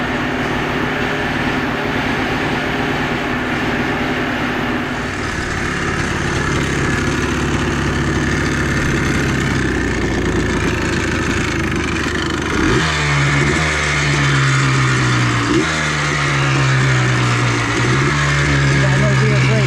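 A Yamaha Blaster ATV engine running on a test ride, a steady loud buzzing drone that turns into rhythmic revving surges about two-thirds of the way through, close to the microphone.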